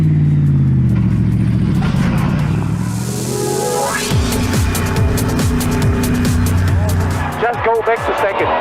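A Mercedes-AMG race car on an oval revs hard through successive paddle upshifts, each rising engine whine dropping sharply at the shift, loud and close, with people talking over it.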